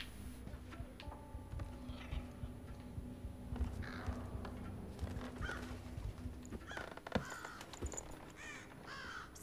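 Several harsh crow-like caws from a bird in the Thief video game, scattered irregularly across a constant low rooftop ambience with faint tonal hums.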